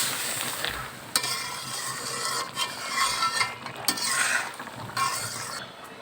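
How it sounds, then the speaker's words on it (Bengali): Prawns sizzling in a pan as a spatula stirs them: a steady frying hiss with repeated scraping, clacking strokes of the utensil against the pan, close and fairly quiet, with no voices. "তো একটু নাড়া দিয়ে দেবো।"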